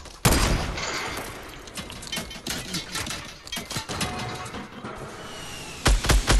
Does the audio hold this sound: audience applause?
no